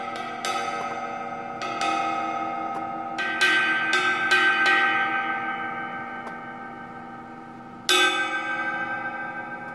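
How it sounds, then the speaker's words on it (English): A Stag 20-inch Myra Mega Bell ride cymbal is struck on its bell about eight times, irregularly. Each bright, ringing ping sustains and overlaps the next, and one louder hit comes late. "This is a Stag 20-inch Myra Mega Bell."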